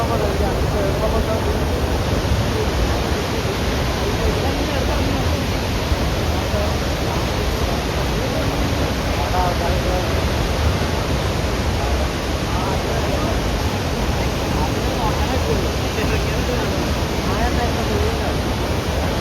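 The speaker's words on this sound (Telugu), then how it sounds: "అలా నేనైతే వాటర్ ఫాల్స్ ని చూస్తూ కాసేపు అక్కడే కూర్చున్నా" Athirapally Falls in Kerala thundering nonstop, a loud dense broadband roar of falling water that fills the whole stretch without letting up.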